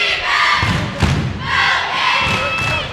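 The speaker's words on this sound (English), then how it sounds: "CV's crowd is responding pretty loudly that even the players are noticing" A loud high school basketball crowd cheers and shouts in a gym during a Crescenta Valley at Arcadia game, swelling in waves with a dull thud partway through.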